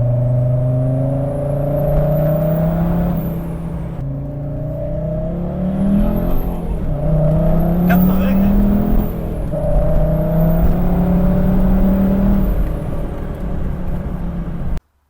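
A cold diesel engine in an old Mercedes C250 TD fitted with a truck turbo revs repeatedly, rising and falling in pitch in several surges, loud and close, with a brief high whine partway through.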